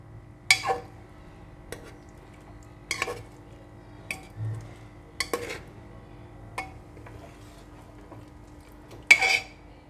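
Spoon or spatula knocking and scraping in a pan of stuffed drumstick curry (bharela saragva shak) as it is stirred, a handful of sharp clinks and clatters spaced irregularly over a steady low hum, no talking.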